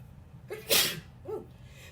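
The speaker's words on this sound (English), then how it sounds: "I kind of already added the seasonings, as you can see from me sneezing already" A person sneezes while seasoning meatloaf in a home kitchen: a short inhale, then one loud, close sneeze and a quieter breathy follow-up.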